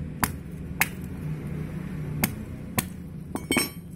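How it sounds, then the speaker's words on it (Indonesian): A hammer breaks large charcoal chunks into smaller pieces for an orchid pot. Several sharp, separate cracking knocks come at uneven intervals and sound close but fairly quiet, with a cluster of quicker hits at the end. "Kita geprek atau kita pukul pakai palu."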